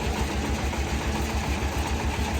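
A Zubr 1105 mini tractor engine runs steadily on test, fitted with a 120 rotary tiller at the rear, giving a continuous close, even diesel chug with a regular low pulse.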